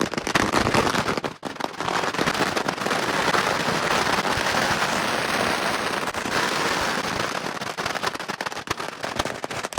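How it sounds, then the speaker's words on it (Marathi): Diwali firecrackers go off outside a shop, a dense crackling barrage of rapid pops and bangs that runs steadily for about ten seconds, fairly close, with no talking. "तर मग आता हे आपलं दुकानासमोर फटाके."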